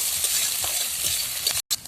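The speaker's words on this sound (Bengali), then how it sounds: "কেটে রাখা পেঁয়াজ কুচি পেঁয়াজটাকে লাল লাল করে ভেজে নেব" Chopped onion fries in mustard oil in a wok with a constant loud hiss, soft stirring scrapes underneath, and a brief drop to silence near the end.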